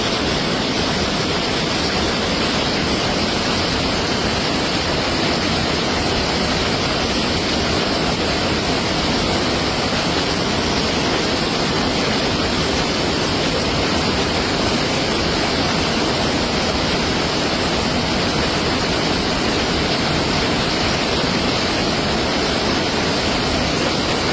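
Rushing mountain floodwater at Kuruthichal near Mannarkkad makes a dense, unbroken roar that stays loud and even throughout, with no voices.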